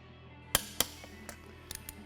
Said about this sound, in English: Then get out your torque wrench. And we're going to start with 80 foot-pounds.